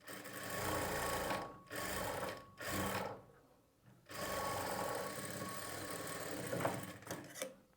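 Sewing machine stitching a double-folded quarter-inch margin on a blouse neck: fast, even mechanical whirring runs in several bursts of a second or so, separated by short pauses, close and clear with no talk.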